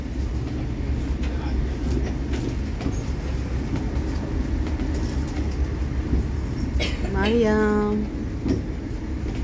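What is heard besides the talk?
train riding, Italy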